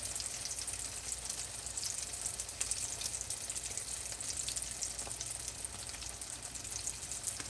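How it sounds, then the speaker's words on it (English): Shami kabobs frying in hot oil give off a steady, dense sizzle with fine crackling spits, even and moderately loud throughout, with no voices. "So you just want to take it and slowly place it in to the oil"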